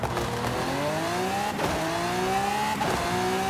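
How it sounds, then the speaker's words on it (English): A Lamborghini in Forza Horizon 5 revs hard, its engine pitch climbing through two or three rising gear pulls with short breaks between shifts, loud and up front with no talk. "it doesn't sound like the same old Lamborghini"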